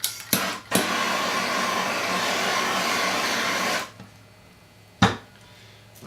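Torch singeing the frayed ends of nylon cord on a battle belt: a steady, loud hissing roar for about three seconds, bracketed by brief clicks and pops, then a quieter background with one more sharp burst.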